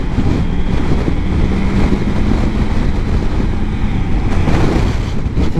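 Steady, heavy wind roar buffeting the microphone while riding a Triumph 900 Rally motorcycle, loud and continuous throughout with no talking.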